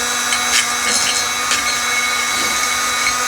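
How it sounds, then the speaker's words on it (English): A Dremel rotary tool grinds rust off a vintage adjustable wrench, giving a steady high-pitched whine with faint scraping bursts as the wheel bites the metal. The sound is close and continuous, with no speech. "Like I say, this Dremel"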